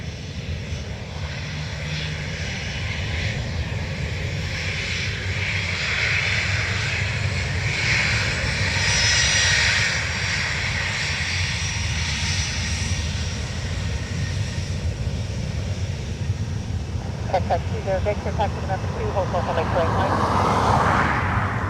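Ryanair jet airliner engines running on the ground at Dublin Airport, a steady broadband roar with a whine that rises near the end, heard from a distance over radio chatter.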